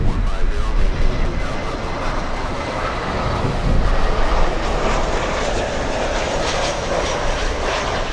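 An American Airlines jet arrives at Miami International Airport, its engines roaring loud and broadband with a steady, rumbling wash that holds throughout without talk.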